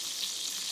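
Duck searing in a thick heavy pot gives a soft, steady sizzle, a faint continuous crackling hiss with no voices over it.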